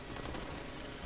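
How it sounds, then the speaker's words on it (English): Minigun fire in the Space Raiders video game, a dense continuous roar of rapid shots filling the whole moment at fairly low level. "Hit him with a minigun, Heather."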